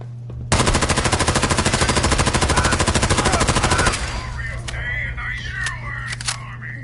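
Rapid automatic gunfire from Fallout 4 hammers loud and steady for about three and a half seconds, then stops, leaving a low hum and scattered game effects in the background.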